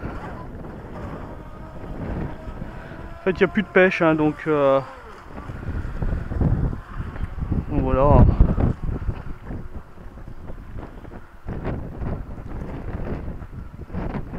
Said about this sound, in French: Bon là il y a vraiment du vent, hein, c'est chiant, ça fait des vagues